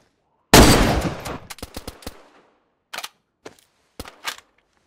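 A gunshot rings out in the video game DayZ: one loud sharp report with a decaying tail, followed by a few quieter clicks and bursts.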